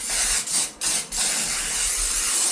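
Makeup setting spray is misted from a pump bottle in quick bursts, three short breaks between long loud hissing sprays, close to the microphone with no talking.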